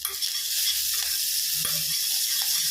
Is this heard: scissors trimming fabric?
no